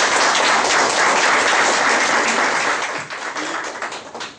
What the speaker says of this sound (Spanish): yo les pediría un fuerte aplauso para el diputado Rodríguez Doval